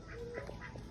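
Ducks at a zoo give a few short, nasal quacks and honks in quick succession, fairly close and clear over light outdoor background noise.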